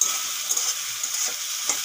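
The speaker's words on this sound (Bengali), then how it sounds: "চিংড়ি মাছগুলো ভাজা হয়ে গেছে" Shrimp fry in a pan for a Bengali shrimp and Malabar spinach dish, giving a loud, continuous oil sizzle with a few brief stirring scrapes in the mix and no talk.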